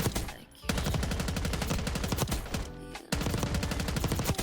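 Rapid automatic fire from a GPR-91 rifle in a Black Ops 6 firing range, loud close bursts of evenly spaced shots with a brief pause near the start and another short gap before the firing resumes.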